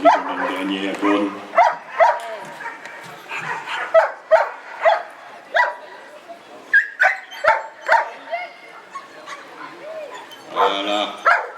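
Repeated close barks and yips from a working dog at a 2011 Hélécine training competition, spaced in a steady rhythm under someone speaking continuously.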